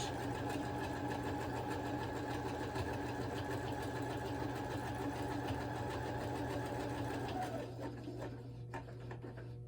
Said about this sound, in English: we're going to sew around the edge about 1/8 of an inch away from the edge of the fabric